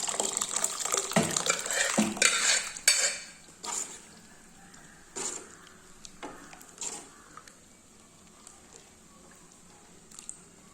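A spoon stirs and mixes dalcha in a cooking pot, giving wet sloshing and scraping with metallic clinks, busy at first and then settling into sparse, quieter strokes.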